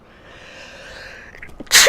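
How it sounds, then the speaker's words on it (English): A single loud sneeze bursts out at the very end after a quiet, breathy lead-in. "I'm going to sneeze."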